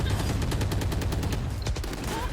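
Rapid gunfire in the tactical shooter Valorant: quick rattling bursts of shots in a fast, regular rhythm, fairly distant and moderately quiet, with a low background rumble.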